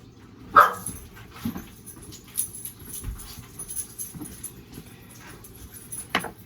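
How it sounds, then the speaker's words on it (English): Several dogs bark and yip in short scattered bursts around a home kitchen, some sharp and close, others softer, over a low steady background. "those are my dogs"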